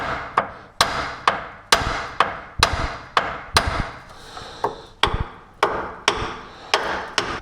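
Hammer blows strike the upper control arm on a 2007-14 Chevrolet Silverado to knock it loose, about a dozen sharp metallic hits in a steady, fairly even rhythm, close and loud with no talking.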